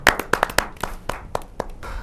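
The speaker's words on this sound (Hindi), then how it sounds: "जोरदार ताली के साथ में।" Audience at a Hindi kavi sammelan poetry gathering claps to welcome a poet, a burst of sharp irregular hand claps up front that thins into scattered claps over two seconds.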